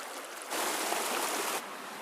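A forest stream in laurel forest flows in a steady broadband rush that swells up loud for about a second, then drops back to a softer wash.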